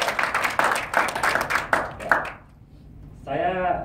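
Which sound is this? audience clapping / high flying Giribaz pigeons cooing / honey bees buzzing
audience clapping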